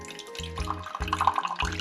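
Water is poured for making coffee, a short, gurgling trickle with a few splashy bursts and drips, heard close and fairly quiet with no talking.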